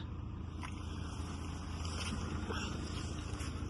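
A 2015 Mercedes-Benz E 200 engine idles quietly, a low steady hum with faint rushing noise and a few soft knocks, heard alone without talk.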